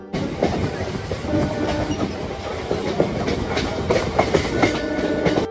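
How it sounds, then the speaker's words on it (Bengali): A local train on the line to Namkhana rumbles steadily through paddy fields, wheels clattering in a continuous rhythmic clickety-clack, close and fairly loud with no talking. "সবুজ ধান ক্ষেতের মধ্যে দিয়ে এগিয়ে চলল আমাদের ট্রেন"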